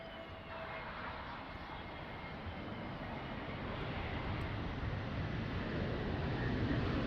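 An aircraft landing at Lisbon Airport in rain and wind, a broad steady engine roar that swells slowly louder across the stretch, distant to mid-range and continuous, no voices.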